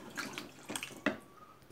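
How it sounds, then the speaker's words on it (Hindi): A bowl of water poured into a jackfruit and potato curry in a pan, heard as a few short close splashy gushes with brief pauses, no voices. "मैं इस पर 1 कटोरी पानी डाल रही हूँ।"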